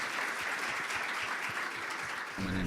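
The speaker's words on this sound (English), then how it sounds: "one more big applause for Mladen" Audience applause at the close of a PyCon Balkan 2018 conference talk, a steady dense wash of clapping throughout, with a voice starting to speak near the very end.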